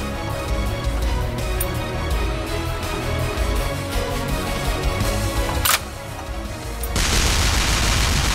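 Tank shots and explosions in the artillery game Shell Shock Live come as a dense, noisy barrage of bursts, with a sharp crack near the end followed by a louder, sustained rumbling blast.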